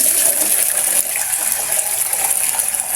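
Water pouring steadily from a hose or container onto garden plants, a loud, continuous hissing gush that stays close and unbroken throughout.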